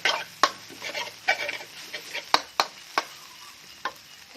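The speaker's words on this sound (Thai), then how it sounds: "หลังจากนั้นก็ใส่วุ้นเส้นลงไปเลย คลุกเคล้าเลยเจ้าคลุกเคล้าเลยเจ้า" Stir-fried bamboo shoots with egg, oyster sauce and glass noodles being tossed in a pan, with a faint sizzle under a series of sharp utensil scrapes and taps at an irregular pace, close by.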